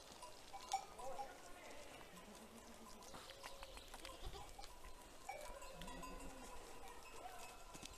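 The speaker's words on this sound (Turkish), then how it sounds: "Rengarenk keçiler." A few goats bleat softly at a distance amid quiet outdoor ambience, with scattered rustling and movement sounds.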